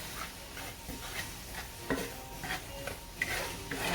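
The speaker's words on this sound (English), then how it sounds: "Let's just saute those up." Mushrooms sautéing in a pan with a little salt, a soft steady sizzle under repeated stirring and light scraping, moderately quiet and close, with no talking.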